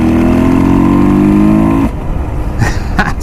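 A KTM/Husqvarna 150 TPI two-stroke motorcycle engine in sixth gear holds a loud, steady high-pitched drone up close, then drops off sharply into rougher, lower rumble with a couple of brief noisy bursts.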